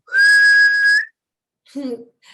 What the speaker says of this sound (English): And sometimes I whistle in.